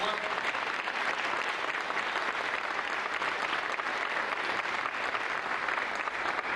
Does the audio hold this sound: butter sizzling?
no